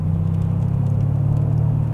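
A Mercedes C63 AMG pulling away, its engine giving off a loud, steady low rumble that stays even from start to finish with no talking over it.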